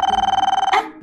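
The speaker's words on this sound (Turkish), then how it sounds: "Telefon." A toy telephone in a Barbie playset gives a loud, rapid electronic trill lasting under a second, then cuts off into a short burst of noise.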